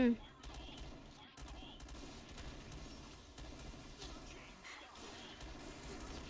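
Dense, continuous machine-gun fire in the video game Point Blank, with rapid bursts and scattered explosive crashes, steady and loud throughout, with a voice faintly mixed underneath.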